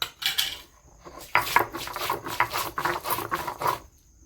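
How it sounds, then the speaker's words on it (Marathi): Garlic being ground on a traditional flat stone slab (pata) for a spicy onion curry masala, giving repeated scraping and knocking strokes in an uneven rhythm, close and fairly loud. "आता याच्यावर आता हे लसूण वाटू राहिले"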